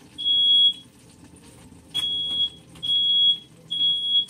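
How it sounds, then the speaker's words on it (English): A high, piercing smoke alarm set off during cooking beeps in four separate bursts, each lasting about half a second or more, loud and close with brief gaps between them. "Yeah, and there goes a smoke detector."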